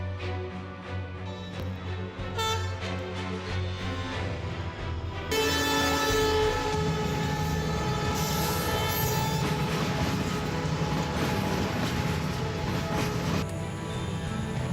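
A train rumbles past with a steady roar and metallic screeching, growing louder midway and continuing without voices.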